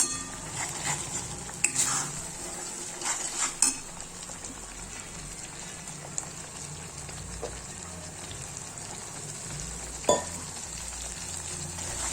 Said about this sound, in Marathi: मग आपण तेलात मसाला टाकला आहे आता त्याला चांगलं लालसर होऊ देऊ